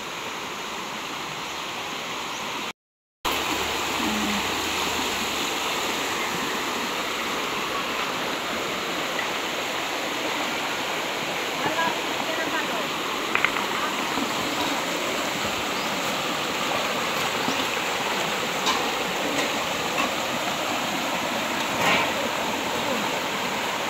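Steady rushing water of a clear flowing stream used for washing laundry fills the whole stretch, broadband and constant, with a brief dropout near the start.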